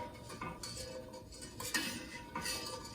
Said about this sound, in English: You have to keep stirring or otherwise the bottom will get burnt.